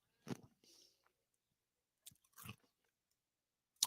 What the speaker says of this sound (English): I'm chewing ice.